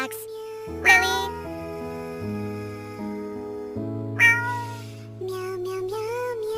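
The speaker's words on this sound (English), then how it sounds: "Meow, meow, meow, meow." A cat meows several times over a steady musical backing, the calls standing out clearly as short rising cries near the start and again midway.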